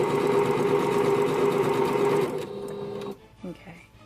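A sewing machine chain stitches fabric pieces for a jelly roll race quilt, whirring loud and steady for about two seconds and then slowing and stopping, while a person talks over it.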